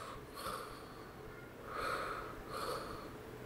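A voice imitates congested nasal breathing: three faint, raspy snorting breaths, evenly spaced, with quiet pauses between them.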